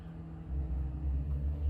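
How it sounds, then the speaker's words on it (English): Cars passing outside make a low, steady rumble that swells slightly, heard faintly from indoors. "Excuse the cars."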